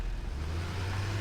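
Small tractor in the game Satisfactory drives along with a steady low engine drone and rumble, continuous and fairly close, with no voices.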